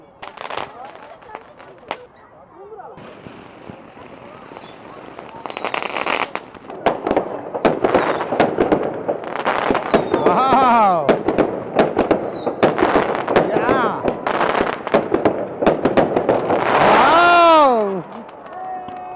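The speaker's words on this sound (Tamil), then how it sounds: "இருந்தாலும் நாங்கள் வந்து பட்டாசு போடுறதுக்கு இந்த குளூரில் வந்து நிற்கிறோம்" Diwali firecrackers burst outdoors on a cold night at a community gathering in Toronto, a dense run of sharp bangs and crackles with whistling rockets rising, loud and continuous, with people talking and cheering in between.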